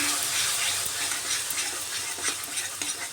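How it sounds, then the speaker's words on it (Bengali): Ground spices frying in a pan with a splash of water for an egg and potato curry, a loud steady sizzle with scraping stirring strokes throughout, no voices. "একটু জল দিয়ে মশলাটাকে কষিয়ে নিচ্ছি"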